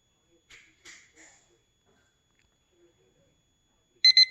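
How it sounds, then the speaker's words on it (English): IKEA Digital Klockis timer alarm going off at the end of a countdown, a short burst of loud, close electronic beeps after some faint handling sounds. "the timer's up"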